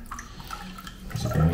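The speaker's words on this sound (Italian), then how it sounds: "imbeviamo un pochino le setole" Synthetic shaving brush bristles soak in hot water, giving soft splashing and trickling, faint at first and then louder in a brief close-up swirl.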